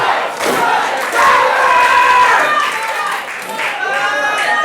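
A live wrestling crowd cheers and yells, loud overlapping shouts and whoops with scattered clapping surging and dipping in waves throughout.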